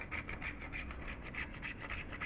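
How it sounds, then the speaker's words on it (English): Chocolate grated with a small hand grater over a banoffee pie, a steady back-and-forth rasping scrape repeated in quick, even strokes, close and moderately loud with no talking. "with a small grater, I'm just going to go ahead and grate chocolate"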